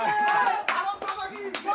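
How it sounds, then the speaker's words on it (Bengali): People clapping at an anniversary celebration, a few brisk hand claps breaking through lively talk, with a voice also heard. "হাততালি দাও, তোমরা হাততালি দাও, দাও সবাই হাততালি দাও।"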